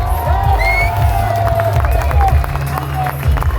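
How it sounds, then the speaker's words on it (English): Crowd at an outdoor London demonstration cheering and applauding young women on a stage, a dense steady roar of claps, shouts and whistles with loud low rumble throughout. "Give these girls a round of applause"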